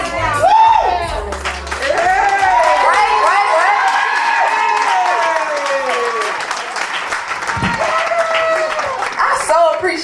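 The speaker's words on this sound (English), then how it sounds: "Appreciate the applause." After a song at a street performance, an audience bursts into sustained applause and cheering, with whoops and excited voices layered over the clapping throughout.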